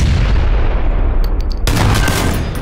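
A Kar98 bolt-action rifle fires in a shooting video game, a sharp loud crack landing over a rumbling noisy background near the end of a brief, dense stretch of gameplay sound.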